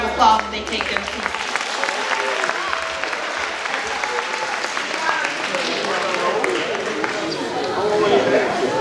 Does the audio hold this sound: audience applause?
yes